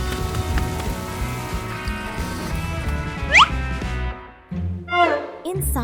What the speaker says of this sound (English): Rain suddenly pours.